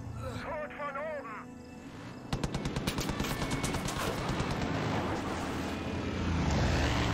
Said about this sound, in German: Immer diese scheiß Flugzeuge.